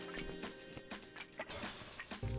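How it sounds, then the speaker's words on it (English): A shattering effect crackles in a puzzle video game, a dense glassy scatter of breaking sounds running continuously under game music, ending in a low thump. "Gonna get some shattering on Faye's screen"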